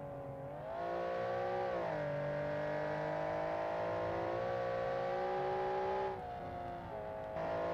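An LMDH race car engine in a racing video game drones and revs continuously, pitch rising and falling with gear changes and easing off under braking, steady and prominent.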